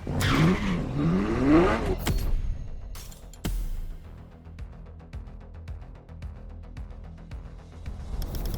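A Ferrari LaFerrari road car in The Crew Motorfest gives a loud, climbing engine rev for about two seconds, then drops to a softer, steady rumble with faint ticks.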